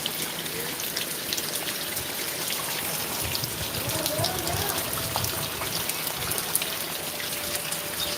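Heavy rain pours steadily in Gujarat during a thunderstorm, a dense, continuous hiss of drops close by with a faint voice underneath.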